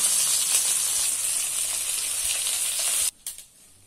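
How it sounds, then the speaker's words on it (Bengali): Fish frying in a pan gives a loud, steady sizzle that spits and crackles for about three seconds, then cuts off sharply, leaving only a faint hiss. "অপর সাইডও একইভাবে ভেজে নেব"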